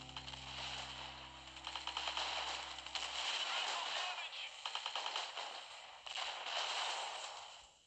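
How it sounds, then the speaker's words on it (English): Auto turrets in the mobile strategy game Art of War 3: Global Conflict fire rapid bursts of gunfire, with a steady low drone at first and clustered volleys repeating through the stretch. "Did you see those auto turrets deal a lot of damage?"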